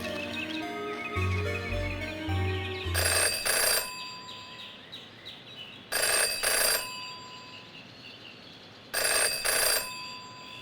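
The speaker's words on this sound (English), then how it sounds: "Jenny had learned never to ignore a ringing phone" A telephone rings three times in the video game Jenny LeClue, each short bright burst of ringing spaced about three seconds apart, following a brief music phrase with a low synth tone.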